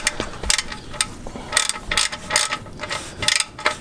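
Ratchet wrench clicking on a 2013 Dodge Charger during an oil and filter change, short bursts of sharp ratcheting strokes repeating up close in an irregular rhythm.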